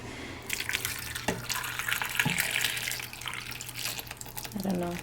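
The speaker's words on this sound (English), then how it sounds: "pour some boiling water over the tomatoes" Boiling water is poured over tomatoes in a home kitchen, a steady watery rush with a few drips and clinks, close and moderately loud, no talking.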